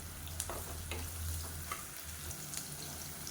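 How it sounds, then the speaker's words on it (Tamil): Sliced onions, lightly salted, fry in a pan for a kurma with a soft, steady sizzle, occasionally punctuated by faint stirring scrapes, heard close and quiet. "இப்போ வெங்காயம் லேசாக வதங்கிடுச்சு"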